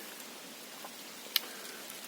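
Soft, steady rain hisses quietly throughout, with one brief sharp tap partway through.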